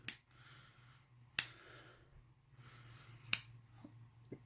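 Scissors snip cotton wick thread close up in a quiet room: three sharp crisp cuts spaced about two seconds apart, with soft handling rustles and a faint low hum between them.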